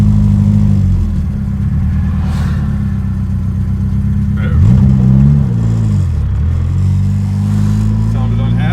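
A 1955 VW Beetle hot rod engine at a drag event revs hard and loud, its pitch sweeping up and down through several throttle blips, with people talking over the steady roar.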